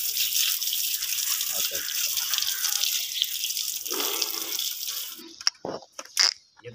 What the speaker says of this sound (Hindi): पानी मार देना अच्छी तरह